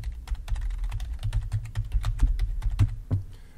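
Fingers clatter across a computer keyboard in quick, uneven bursts of close key clicks with short pauses between runs, and nobody speaks.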